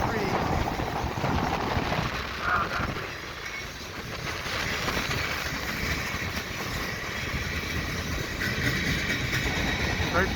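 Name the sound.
CP and KCS general merchandise freight train passing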